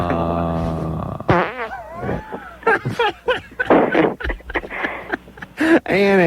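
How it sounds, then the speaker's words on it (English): A long, loud, close fart with a tonal buzz is followed by someone talking and laughing, more short flatulent noises mixing in with the voices on a radio talk show. "Nobody likes my farting"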